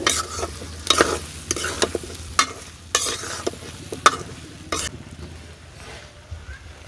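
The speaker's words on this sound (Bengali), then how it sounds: "আমি মিশিয়ে নিচ্ছি বড়ের সাথে হলুদ মরিচ আর লবণটাকে" Raw plums being stirred with turmeric, chili powder and salt in a pan, a series of sharp scraping stirs with a soft sizzle underneath that fades toward the end.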